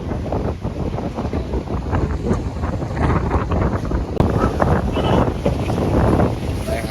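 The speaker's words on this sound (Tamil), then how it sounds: "சரியான காத்து பாருங்க" Strong wind roars steadily at the seashore in Valvettithurai, Jaffna, with surf and moored fishing boats nearby, buffeting the microphone in loud continuous gusts with no pause.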